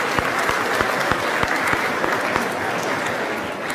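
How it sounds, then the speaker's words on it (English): Audience giving a round of applause at a WIPO event, steady dense clapping from a crowd with a few louder individual claps standing out, sustained at even volume throughout. "we'd like to all give him a round of applause"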